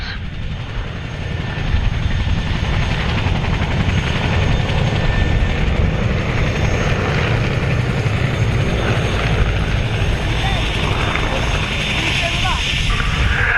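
An Avro Anson Mk.1 propeller aircraft drones steadily overhead at an airshow, a constant engine rumble filling the background throughout.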